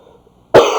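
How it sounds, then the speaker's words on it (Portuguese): A single sharp, close cough bursts out after a near-silent pause, loud and abrupt with a brief raspy tail. "Perdão pela tosse."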